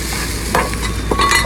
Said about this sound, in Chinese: 葱姜蒜、辣椒爆香，来点我干妈家的辣椒酱。